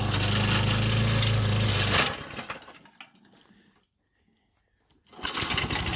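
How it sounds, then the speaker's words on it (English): A brush cutter clears brush and land in a backyard forest area, its loud engine whine running for two seconds before cutting off, leaving quiet rustling and faint activity until the engine noise returns at the end. "Brush cutter mode. Clearing out a little bit more room out in the back here."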